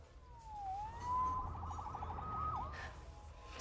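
Police siren in the Marvel's Spider-Man Remastered video game, a clear wailing tone that sweeps up and down and then warbles rapidly, heard at moderate level over a low rumble of city background.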